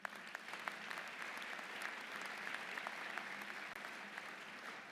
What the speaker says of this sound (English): we need to give them a round of applause as well